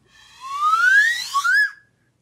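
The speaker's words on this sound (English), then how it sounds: "Everyone's going to expect a slide whistle." A slide whistle plays two rising glides, a long upward sweep followed by a shorter one that peaks and drops off. It is loud and close, with no voices.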